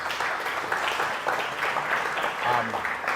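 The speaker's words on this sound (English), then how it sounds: "round of applause for that, 100 paying customers" An audience applauds at a university startup talk, a steady wash of clapping that fills the room without pause, with some voices mixed into the crowd noise.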